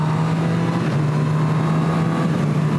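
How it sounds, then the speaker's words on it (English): A Honda CB1000R four-cylinder engine pulls hard through clutchless gear shifts, a loud, steady, close-up drone with a strong low hum and wind rush, heard without talk. "Clutchless shifts are absolutely effortless, as they always tend to be with a nice 4-cylinder engine"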